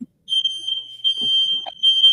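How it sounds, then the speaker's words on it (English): A home smoke detector shrills in a loud, steady high-pitched tone that runs almost continuously, with brief dips and a few faint background noises underneath. "My fire alarm's going off."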